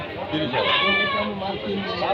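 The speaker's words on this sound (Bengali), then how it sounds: "এখানে দুইটা ছাগল দেখেন পানিতে ভিজে গেছে" At a rural livestock market in Rajshahi, a goat bleats a wavering call close by, mixed with talk and crowd chatter.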